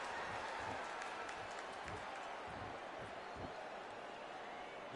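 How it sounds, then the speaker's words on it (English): An arena crowd from the Sparking Zero video game murmurs and cheers as a steady, dense wash of noise, with faint claps and voices blended in throughout. "The crowd here cannot wait. They've been buzzing all day long"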